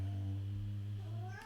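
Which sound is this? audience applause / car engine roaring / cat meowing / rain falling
cat meowing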